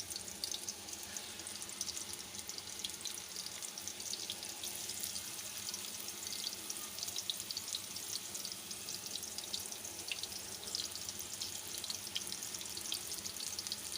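Beef seekh kebabs frying in a pan of oil, a steady close hiss and crackle of sizzling that continues evenly without talk.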